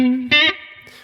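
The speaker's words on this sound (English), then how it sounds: "If we want to add some reverb, I could bring in the spring reverb." An electric guitar sounds through a spring reverb effect in the Loopy Pro app: a sustained clean note, then a brighter struck chord that rings out with a lingering, shimmering tail, close and fairly loud.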